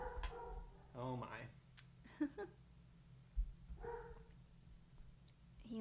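A dog named Hilo barks indoors in the evening, a few short barks and yips spread out and fairly distant, with a person talking in between and a steady low hum underneath.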